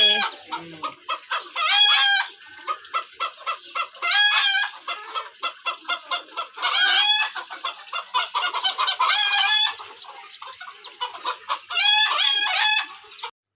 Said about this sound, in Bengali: এই হচ্ছে মুরগির খামার।